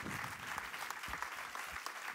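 A concert audience at a summer-night singing event applauds steadily, with dense overlapping clapping from many people at moderate, somewhat distant volume, heard on its own without speech.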